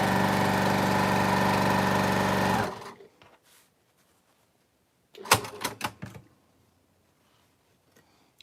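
A sewing machine stitches fabric pieces together in a fast, steady whir for a few seconds, stops, and is followed by a cluster of quick clicks and handling noises.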